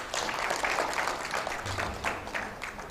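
An audience at a national HIV and AIDS scientific meeting claps in a brief, even wash of applause, moderately loud and sustained, with no speech on top.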